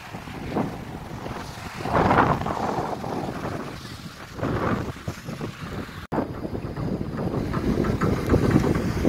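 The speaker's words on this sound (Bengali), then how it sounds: "এত হাওয়া সাইডারি উড়িয়ে যাচ্ছে, এটা পুরোপুরি বাতাস" Strong wind gusts roar and buffet the microphone, rising and falling in waves, with surf rumbling underneath; no voices.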